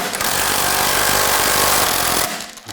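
A power tool with an 18mm socket spins off a sway bar link nut on a 2015-2020 Cadillac Escalade rear suspension, giving one loud, continuous rattling buzz of about two seconds that then cuts off abruptly.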